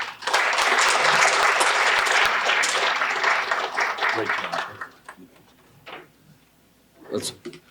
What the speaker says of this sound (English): Another round of applause for Ben in Z-Space.